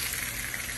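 Potatoes cut into batons, fries frying in salted hot oil in a pan over medium heat, a steady, even sizzle that holds unbroken at moderate loudness with no talk.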